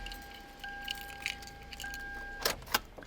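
Car keys jangle and clink in a few short bursts against a quiet background with a faint steady electronic tone, during programming of a vehicle key with a valet key.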